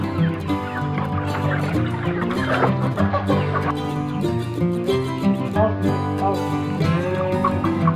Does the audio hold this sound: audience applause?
no